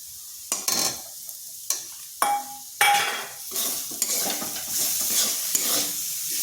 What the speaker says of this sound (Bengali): সবগুলো একসাথে ভালো করে মিশিয়ে নিচ্ছি।